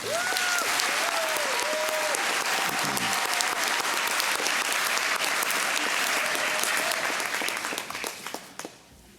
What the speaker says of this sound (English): And a round of applause for our doctoral candidates.